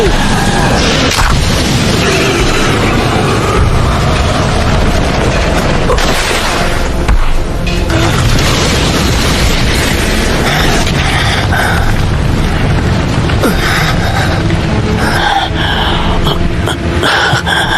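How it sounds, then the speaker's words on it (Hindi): A fire-style dragon flame jutsu blast from the Naruto anime, a dense continuous roaring whoosh of fire with rumbling booms, loud throughout and mixed with voices speaking. "Fire style dragon flame jutsu."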